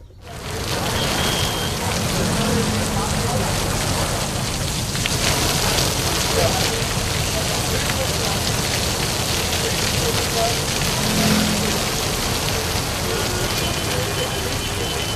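Heavy monsoon rain pours in a dense, steady hiss of drops drumming on surfaces, loud and unbroken from start to finish.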